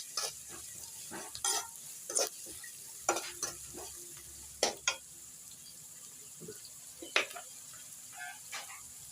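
Onions fry in a pan with dried red chillies for a moringa flower egg stir-fry, a faint sizzle under repeated scraping and stirring strokes of a spoon against the pan at close range.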